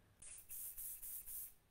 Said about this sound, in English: I'm just going to lightly spray it down about 12 to 18 inches away